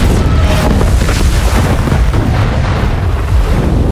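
A ship blows up from planted explosives in a war film: a loud, sustained booming roar with heavy low rumble fills all four seconds, with no voices.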